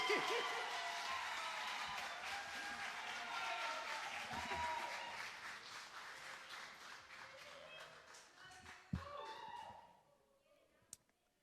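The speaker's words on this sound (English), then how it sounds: "Y'all better clap it up for the poet, Damani!" An audience at a publication celebration applauds a poet, sustained dense clapping that slowly thins and fades, ending with a few isolated claps and near silence.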